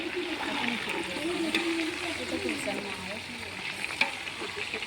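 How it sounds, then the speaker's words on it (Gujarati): Garlic and ginger fry in hot oil for a large batch of pav bhaji, a loud continuous sizzle with splattering and stirring scrapes up close, while voices talk over it. "પહેલાં લસણ નાખજો, પછી આદુ, હવે હલાવી નાખો સારું"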